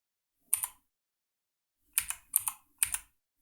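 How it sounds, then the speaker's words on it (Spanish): Keychron K10 mechanical keyboard pressed in short bursts: four crisp clacking keystrokes, a single one followed by a quick cluster of three after a pause, close and clear against silence. "Pero este es el Keychron, un teclado mecánico."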